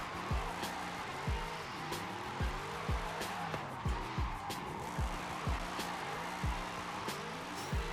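A 1000 hp BMW M3 E92 drift car in Forza Horizon 5, its engine revving hard and dropping again and again as it climbs through the gears, with tire squeal mixed in, loud and close throughout.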